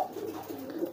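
Pigeons give a soft, low cooing, close and steady, in a brief burst with no other sounds.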